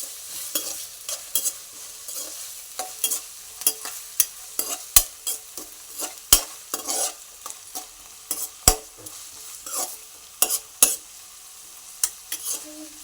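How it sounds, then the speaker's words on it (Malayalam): Upma ingredients being stirred and sautéed in a pan on the stove produce a soft sizzle under repeated sharp scrapes and clinks of the spoon against the pan, irregular but constant. No one talks. "നല്ലതുപോലെ വശക്കി കൊടുക്കും."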